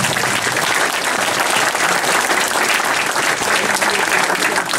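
Steady, dense applause from an audience at a ceremony designating a Walloon deputy, loud and continuous with no breaks, honouring a late mentor.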